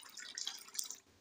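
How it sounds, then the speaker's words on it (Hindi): Water trickles and drips into a bowl of whisked kadhi batter, a soft, continuous splashing pour lasting about a second before fading, close and faint with no talk. "अब इसमें मैं पानी ऐड करूँगी।"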